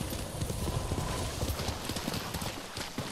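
Horse hooves clip-clop steadily in the video game Ghost of Tsushima, a quick rhythmic series of close hoof strikes running throughout with a low game background bed and no speech.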